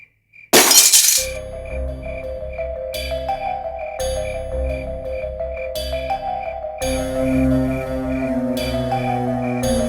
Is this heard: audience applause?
no